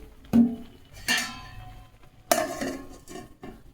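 A lid clanks onto a cooking pot of paneer biryani with ghee, a few separate metallic knocks and clinks spaced out over a quiet kitchen background.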